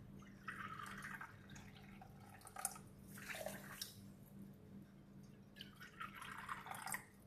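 Water pours and splashes into a pan of sugar for basbousa syrup, in several steady trickling bursts with short gaps between them, close and fairly soft.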